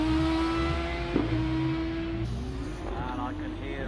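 A hill climb race car at Loton Park approaches, its engine note rising and shifting in pitch as it draws nearer, while a commentator talks over the sound.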